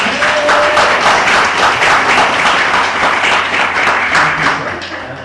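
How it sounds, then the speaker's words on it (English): Close, lively applause from an audience after a permaculture design course presentation at Moelyci, a dense patter of clapping that holds steady and then tapers slightly at the end. "I'm going to round of applause."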